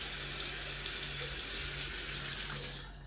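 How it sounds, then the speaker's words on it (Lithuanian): A shower runs at full flow with the hottest setting turned on, a loud constant rushing spray close by that eases slightly at the very end, with no talking. "Čia aš atsukusi karščiausią vandenį, koks yra duše."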